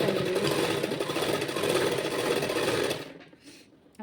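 A sewing machine runs steadily for about three seconds while stitching the shoulder seam of a churidar top, then stops, leaving near silence.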